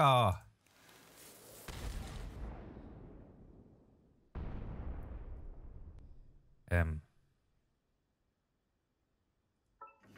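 Kamiji cannon firing in the video game Genshin Impact: two heavy booming blasts, each trailing off into a long rumbling decay, with a voice speaking briefly before and after them.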